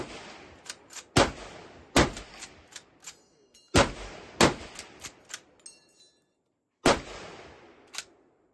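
Steyr-Mannlicher M95 rifle shots on an outdoor firing line, a series of loud, sharp cracks in uneven bursts with brief pauses, some shots overlapping from several shooters, each followed by a short fading echo.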